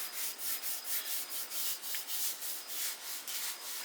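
Sanding sealer being sanded level by hand with a pad on a seven-string Les Paul-style guitar body, a steady back-and-forth rubbing with soft rhythmic strokes about every third of a second, close and alone.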